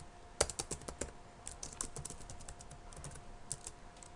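Keys clack on a computer keyboard in quick bursts of close, crisp taps with short pauses between them, played alone and fairly quiet under a faint steady hum.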